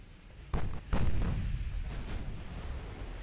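Warship guns in Ultimate Admiral: Dreadnoughts fire two heavy, close booms in quick succession, followed by a lingering rumbling roar of battle noise.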